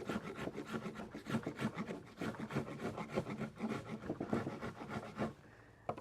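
Sandpaper rubbing steadily back and forth over a hand-carved sculpture, a close, continuous rasping scrape in rapid strokes that stops briefly near the end.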